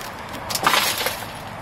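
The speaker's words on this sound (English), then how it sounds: "And of course broken glass." Broken glass crunches and clinks inside an abandoned house, a short scrape of shards close by against a steady background hiss, with no voices.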